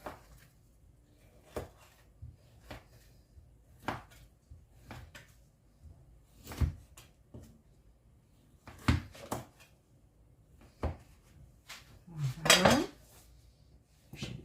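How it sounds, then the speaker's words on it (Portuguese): Knife cutting sausage into cubes on a board, a series of sharp separate taps and knocks at an uneven pace, close and fairly faint, with a brief scrape near the end. "Então, eu vou cortar assim pra vocês em cubos."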